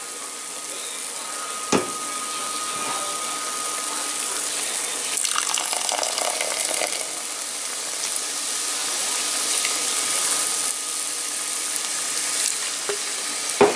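Beer is stirred into onion soup in a pot, giving a continuous fizzing, sizzling wash with faint scraping along the pot bottom and a few light knocks.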